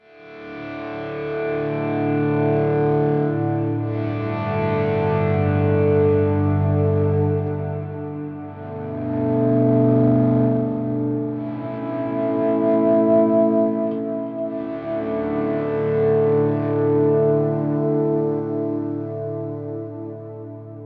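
Electric guitar played through a Fractal FM3 effects unit with a boost engaged for a more aggressive, distorted tone, sustained chords ringing out loudly with chorus and echo, a few phrases of held notes with no voices.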